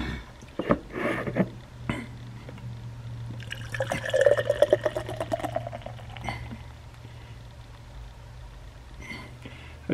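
Winter Hill Johnny Juice IPA beer pours into a mug with a gurgling, splashing burst in the middle, fizzing and settling afterward alongside faint handling clinks.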